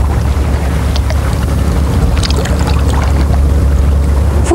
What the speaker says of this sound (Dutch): Het water stroomt zo en duwt de boot schuin naar de overkant.